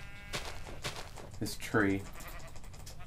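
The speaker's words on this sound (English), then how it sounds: "I can hear sheep barring" A sheep in Minecraft gives one short, wavering bleat partway through while a person talks casually over a faint background.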